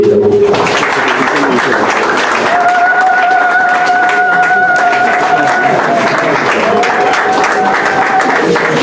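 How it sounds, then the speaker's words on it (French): An audience at a formal gathering applauds to welcome a speaker to the podium, with dense, sustained clapping and a thin steady tone running through the middle. "Et cela va se faire sous vos applaudissements, bien évidemment."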